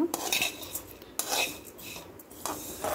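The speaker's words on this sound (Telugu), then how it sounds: "సేమియాని నెయ్యిలో వేయించుకుంటున్నాను." Vermicelli roasts in ghee in a pan, with a metal spoon scraping and clinking in a few close, bright strokes over faint frying hiss.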